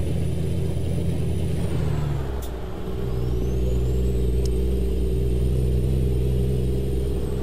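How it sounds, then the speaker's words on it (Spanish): A Kenworth T800 truck engine, running with some engine damage, drones with a steady low rumble that dips briefly around a gear change and then settles back into a sustained, loud acceleration, close and without speech. "Vamos a seguir acelerando aquí, vamos a pisar a fondo."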